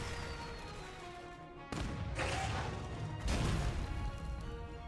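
Flash bomb going off in an Arknights x Monster Hunter crossover game, two sharp bursts of blast noise about a second and a half apart, each followed by a sustained bright wash of sound, with no talk.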